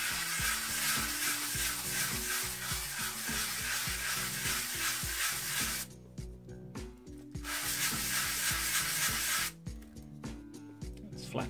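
Cuttlebone halves are sanded flat on sandpaper with steady, close, rasping strokes that repeat in a continuous rhythm, broken by two brief pauses, with no talk.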